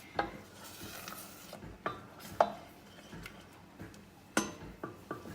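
A spoon stirs and scrapes thickening brigadeiro mixture in a pan, giving soft, irregular scrapes and sharp metallic clinks against the pan, close and quiet, with no one talking.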